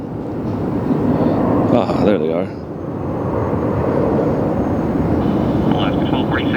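An American Airlines jet airliner takes off at LAX, a loud, steady engine roar filling the whole stretch with a brief dip near the middle, while people talk over it.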